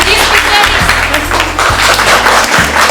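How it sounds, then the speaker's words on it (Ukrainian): Audience applause at a folk heritage event, steady and loud, continuous clapping filling the room for about three seconds with no break. "Тому ще раз аплодисменти"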